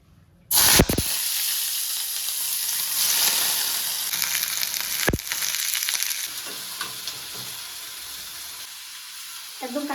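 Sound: oil heating and sizzling in a kadai

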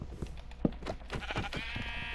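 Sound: sheep bleating in a video game

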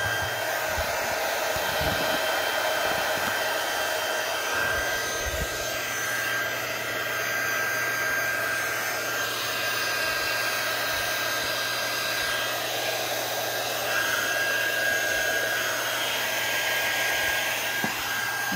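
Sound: embossing machine running

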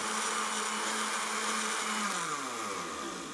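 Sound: blender running, graphene from graphite test

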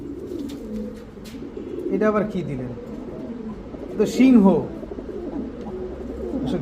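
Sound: pigeons cooing

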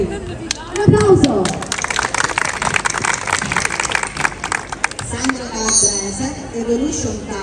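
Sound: audience applause for dance teachers

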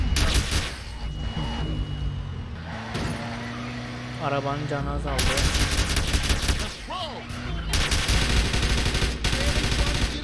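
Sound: gunfire in the video game GTA San Andreas

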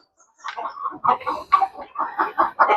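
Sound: native chickens clucking on a poultry farm

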